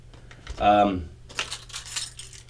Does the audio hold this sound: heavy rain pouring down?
no